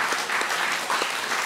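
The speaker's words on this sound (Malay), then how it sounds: "Kita berikan tepukan" Audience applause fills a formal hall at a professorial inaugural lecture, steady dense clapping from a large crowd, close and continuous throughout.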